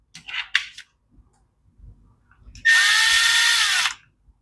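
A power driver whirs in one steady high-pitched burst of just over a second, driving screws into a Craftsman blower carburetor after a few short clicks of handling.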